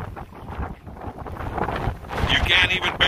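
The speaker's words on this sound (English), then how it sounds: "The storm is here, and it's here with a vengeance. And there's a lot of wind." Strong storm wind gusts buffeting the microphone on a cattle ranch, rising in roaring surges and growing louder toward the end.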